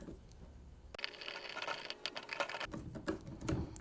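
Torx screws being driven by hand into the MAF sensor of a Mazda RX-8, giving a soft, close run of small clicks and scrapes with a quiet hum underneath.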